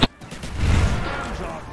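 A sniper rifle shot in a zombies video game, one loud sharp crack at the start followed by a rolling, booming echo that fades slowly.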